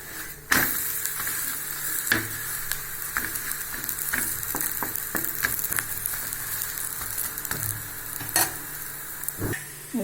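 A spiced tapioca (cassava) adai fries in oil on a pan, a steady sizzling hiss broken by sharp, irregular clicks and taps of a utensil, close and fairly loud, with no talk.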